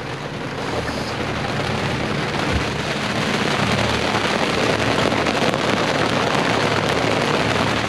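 Heavy rain pours down on a sailboat at sea, a dense, steady hiss of drops close by with wind buffeting the microphone. There is no talking.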